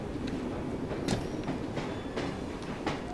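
A train ride in the video game Assassin's Creed Syndicate: a steady, even rumble of rolling rail cars, with faint rhythmic clicks of the wheels recurring about every half second, and no voices.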